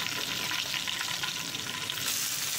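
Chopped onion hits a hot frying pan for beef liver bhuna, giving a steady, close, broadband sizzle that holds evenly throughout with no talking.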